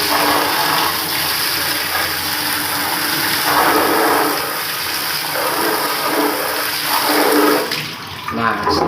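Water sprayed hard onto an air conditioner fan during cleaning, giving a loud, continuous hiss and splash close by that surges slightly in places and drops off near the end.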